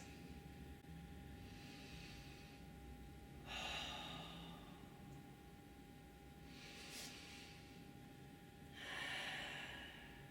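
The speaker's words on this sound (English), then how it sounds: "And we're going to take 4 deep breaths." Deep breaths taken during a seated hamstring stretch in an office-worker stretching routine, with a few slow, soft, airy inhale-exhale swells spaced several seconds apart over a faint steady background hiss.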